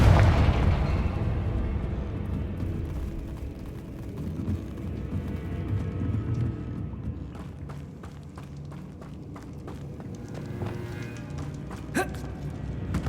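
A Confringo blasting spell explodes in Hogwarts Legacy, opening with a loud rumbling boom that decays slowly, followed by scattered debris clatter and clicks.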